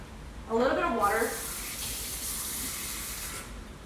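Tap water runs in a home kitchen during Filipino dumpling and lumpia prep, a short louder gush at first, then a steady hiss that continues softly to the end, with no talking.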